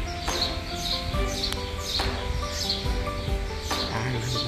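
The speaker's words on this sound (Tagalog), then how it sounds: "nagpupugat ang mga ibon" Birds chirp and tweet around a palace in Bilbao, repeated bright calls arriving in quick bursts over a busy background, with no talking.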